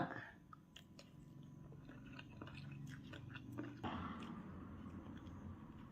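Someone eating spicy papaya salad (som tam), with close, wet chewing and biting sounds repeating irregularly at a quiet level and no talking.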